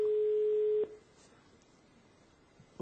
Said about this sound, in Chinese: 好，电话拨过去。